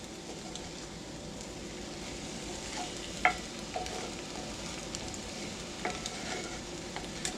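Scrambled eggs sizzle in a 40-year-old cast iron pan and are gently stirred, a steady close frying hiss broken by a few soft scrapes and light clicks.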